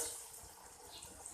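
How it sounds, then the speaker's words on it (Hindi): Water is poured into a pot of roasted chana dal while making Sindhi dal pulao, a brief, soft trickling pour heard faintly and alone. "अब इसमें मैं तकरीबन 2 कप के करीब पानी डाल दूँगी"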